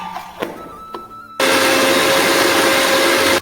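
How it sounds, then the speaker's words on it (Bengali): A mixer grinder grinding ginger, green chillies and tomato into a paste starts abruptly and runs at full, steady whir, loud and close, after a few quiet knocks and clatters. "মিক্সিতে আমি কয়েকটুকু আদা নিয়েছি, দুটো কাঁচা লঙ্কা নিয়েছি, একটা টমেটো নিয়েছি"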